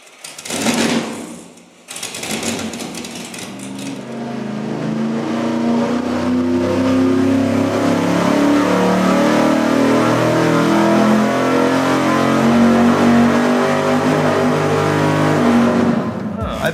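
A carbureted V8 on an engine dyno, run straight out of the box before tuning, barks through a couple of short blips, then pulls into a long, loud, sustained rev with a rising, rough engine roar.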